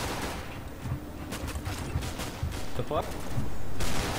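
Game gunfire in a chaotic hostage mode, with repeated sharp shots scattered through the clip amid a busy, noisy background, while a voice swears briefly over the action.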